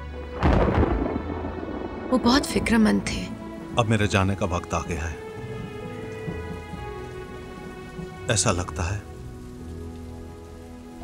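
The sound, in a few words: thunder and rain in a movie scene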